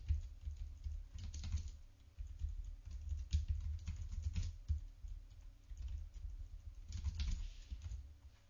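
Typing on a computer keyboard while writing web page code, a steady run of soft, close key taps with brief pauses, alone with a faint low background hum.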